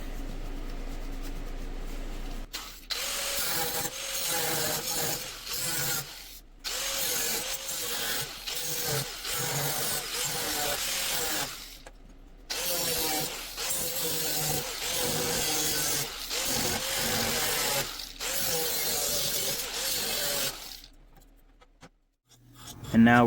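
Traced hood bracket templates being cut out for a snowmobile hood repair, giving long stretches of steady rasping, sawing-like cutting noise broken by several short pauses, close up and fairly loud with no talk.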